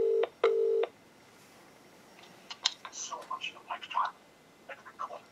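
A telephone being dialed: two long dial tones, then a quick run of short touch-tone beeps and button presses, faint and close, with no talk.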